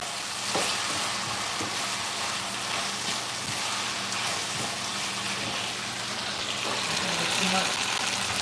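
Food frying in a pot of dinner ingredients, stirred with a utensil: a dense, continuous close sizzle with occasional scraping strokes throughout. No talk.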